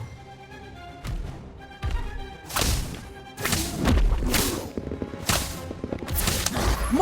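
Sectum Sempra spell effects in Harry Potter Magic Awakened, a series of sharp whip-like slashes and thudding impacts striking in quick succession, loud and punchy over a faint game backdrop.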